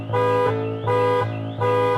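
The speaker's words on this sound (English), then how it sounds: "noticed one of the cars swaying back and forth, horn honking again and again" A car alarm blares with a repeating two-tone horn pattern, loud and close, cycling about three times in quick succession with no voices.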